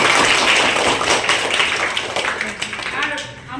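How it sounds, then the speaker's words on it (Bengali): An audience at a girls' high school event claps for a soldier, a dense burst of hand-clapping that is loud at first and gradually thins and fades, with a voice talking over it. "তো দাদার জন্য সবাই একটা হাততালি দিও।"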